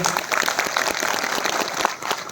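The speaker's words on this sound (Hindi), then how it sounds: "इस ऐतिहासिक उपलब्धि के लिए पूरे सभागार में तालियों के साथ इसका अभिवादन हो।" An auditorium audience applauds at a government investors summit event held at a veterinary college in Mathura, producing dense, continuous clapping that stays loud and even throughout.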